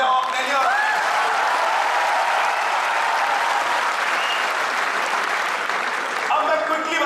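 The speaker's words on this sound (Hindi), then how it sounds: "जोरदार तालियां बजाओ अपने लिए।" A seminar audience breaks into loud, sustained applause for about seven seconds, dense clapping with cheers and a voice briefly audible at the start and end.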